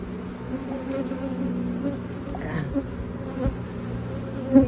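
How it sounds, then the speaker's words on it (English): A steady, dense buzz of many honey bees at an open hive fills the air, a continuous low drone with occasional louder bees passing close by. "this hive has a ton of bees"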